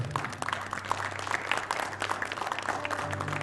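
A church congregation claps in dense, steady applause, a crowd of hands sounding close and lively over a sustained low organ-like tone, with no talking.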